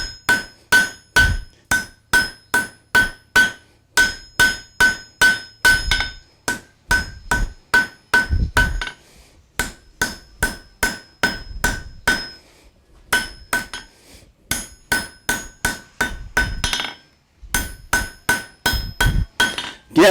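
A hammer forges hot steel into a barbecue spoon on an anvil, ringing metallic blows in quick rhythmic bursts of several strikes separated by short pauses, loud and close throughout with no speech.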